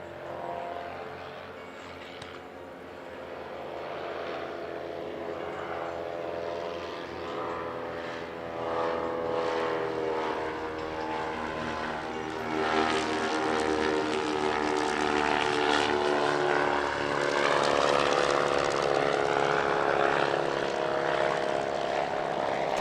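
A Caproni CA.3, a large amateur-built replica of the Italian World War I propeller aircraft, drones through its engines at an airshow, a sustained harmonic propeller hum that swells gradually louder as it passes, with no voices.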